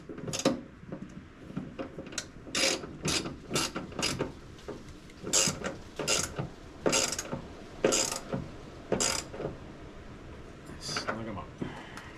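A ratchet snugs down bolts on a Toyota FJ Cruiser door check, giving close, repeated bursts of ratcheting clicks in an uneven rhythm with short pauses between strokes.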